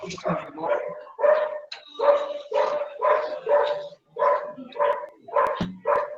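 A dog barks about ten times in a steady, evenly spaced series, loud and close, with a few higher yips mixed in.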